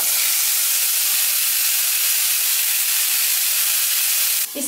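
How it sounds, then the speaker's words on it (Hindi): Tomatoes and salt dropped into hot oil tempered with panch phoron, giving a loud, steady broadband sizzle and hiss that runs continuously, close up, with a brief clatter at the very end. "5 फोड़न हल्का सा फ्राई हो जाने के बाद हम इसमें डालेंगे टमाटर और थोड़ी सी नमक"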